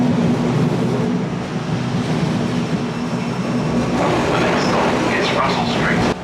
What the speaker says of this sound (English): our tram ride has come to an end